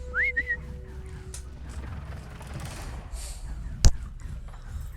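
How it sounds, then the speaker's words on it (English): A short rising two-note whistle sounds in Horizon Zero Dawn, followed by a brief steady tone and low game ambience, with a single sharp thump later on. "Yeah, whistle. There we go."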